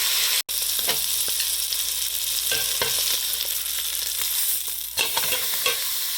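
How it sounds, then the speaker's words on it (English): Pot roast meat sears in a hot pan with a loud, continuous sizzle and frying crackle, broken by a few short scrapes and clicks of moving the meat, with no talking. "we're gonna sear that for about a minute and a half on each side."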